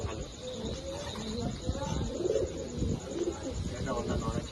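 A pigeon coos softly a few times close by, mixed with low handling noise and faint background sound.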